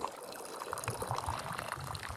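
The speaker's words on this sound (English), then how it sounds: "So let us pour our first cup of tea of this new season." Tea pours into a cup in the video game Wanderstop, a soft, faint liquid trickle running steadily for a couple of seconds.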